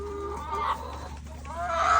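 Laying hens in a coop give a few soft, close clucks and murmurs over a steady low background hum.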